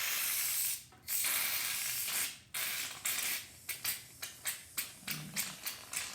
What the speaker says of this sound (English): What you're going to do is shake up your shaving cream